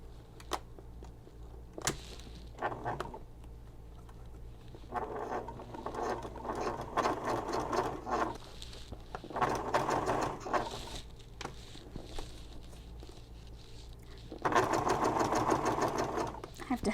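A home sewing machine fitted with a Teflon foot stitches vinyl in several separate runs, each a rapid mechanical whirring chatter lasting a second or more, with pauses between and a faint steady hum throughout.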